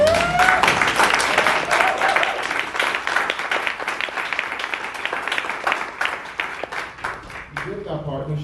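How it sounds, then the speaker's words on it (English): A crowd at a community event in Baltimore gives sustained applause, dense and fairly loud clapping that continues for most of eight seconds before tapering as a voice returns near the end. "we need to give you a round of applause for that."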